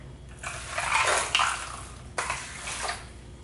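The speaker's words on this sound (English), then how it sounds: "so we're just going to pour a little water on here" Water splashes and trickles onto a Turbot waterproof RGB keyboard in two short pours, close up and moderately loud, with no voices.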